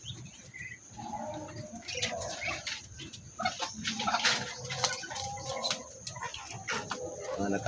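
Hens and newly hatched chicks in a backyard coop chirp and peep in quick, overlapping bursts, with soft cooing and clucking mixed in, fairly close and continuous.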